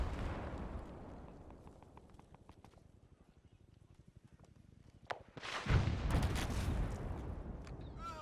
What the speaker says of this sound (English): Wasted can hear the explosions of the mortar fire on our old position.